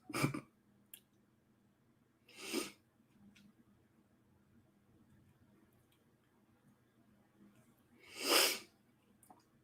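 Three short, sharp sniffs break a quiet room, spaced irregularly with long pauses between them, close to the microphone and without any talking.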